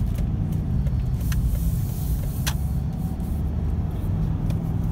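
A car turns at an intersection, its engine and road noise a steady close rumble from inside the cabin, with a few faint clicks over it.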